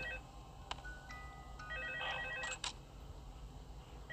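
An old-style telephone rings in the Five Nights at Freddy's 2 video game. It gives a short burst of bright, trilling bell tones with a few clicks, fairly faint over steady background hum.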